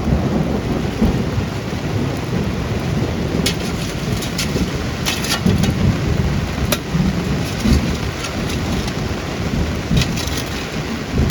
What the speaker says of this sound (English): another big rainstorm